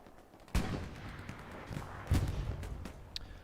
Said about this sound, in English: Sherman firing some smoke shells.